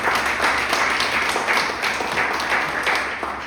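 Church congregation applauding, a dense burst of many hands clapping for a few seconds in a reverberant hall, tapering off toward the end.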